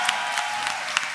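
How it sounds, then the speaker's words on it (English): Audience at the British LGBT Awards 2021 applauding, a brief burst of dense, steady clapping heard alone. "let's have a massive round of applause for Stonewall"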